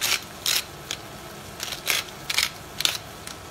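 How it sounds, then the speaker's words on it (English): A pepper mill grinds black pepper over a pound of shrimp cooking in a pan of vegetables for pinakbet, giving a series of short, crisp ratcheting bursts in an uneven rhythm, close and fairly quiet. "Also adding lots of ground pepper."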